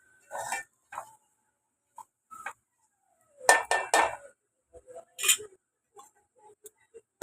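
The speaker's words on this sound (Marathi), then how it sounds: "थोड्या ह्याच्यावर मी झाकण ठेवते." A lid is set on a cooking pan of fried boiled potatoes, heard as several separate close metallic clinks and clanks with short silences between them.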